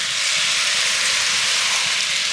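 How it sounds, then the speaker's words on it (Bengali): Melted jaggery pours over fried green mango in a hot pan, giving a loud, steady hiss and sizzle that holds unbroken throughout. "পুরো গুড়টা এবার আমি আমের মধ্যে দিয়ে দিচ্ছি।"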